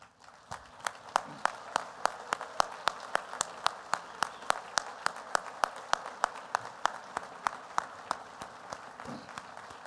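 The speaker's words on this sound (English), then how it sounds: "let's all give them a big round of applause" Steady applause from a dinner crowd honoring a board of directors, a rhythmic run of sharp claps from a nearby group ringing out for about ten seconds with no talk.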